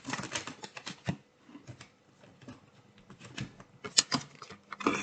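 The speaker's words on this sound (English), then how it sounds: "I'm taking a bit of extra time for shuffling" A deck of tarot cards is shuffled by hand, giving soft, rapid riffling and patting bursts with brief pauses, close and quiet.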